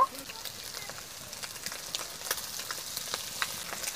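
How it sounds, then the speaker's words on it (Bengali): Ghee and garam masala powder are stirred in a frying pan, giving a faint, crackly sizzle with light scraping taps scattered throughout. "গরম মশলা গুঁড়ো নেড়ে চেড়ে তারপরে নামিয়ে নেব।"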